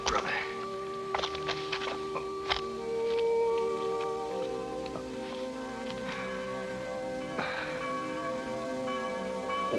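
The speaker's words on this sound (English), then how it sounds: "Winnetou hears the bells. They're sending for him." Church bells ring out in an old Western adventure film's finale, sustained tolling tones layered over soft rain-like rustle and a dramatic backdrop, moderately loud and steady throughout.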